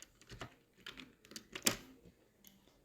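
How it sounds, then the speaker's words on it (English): Keystrokes on a computer keyboard while entering a password at a Linux terminal, a sparse run of quiet clicks with one sharper tap near the end, close and alone without talk. "We'll type it."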